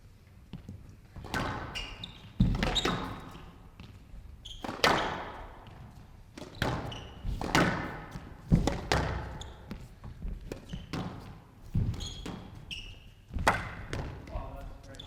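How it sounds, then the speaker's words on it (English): A squash ball smacking the walls and sidewall during a professional rally at an indoor tournament, with sharp, repeated thuds and squeaks in an irregular rhythm while a commentator talks over the play. "on the backhand and just clunking the sidewall slightly as well"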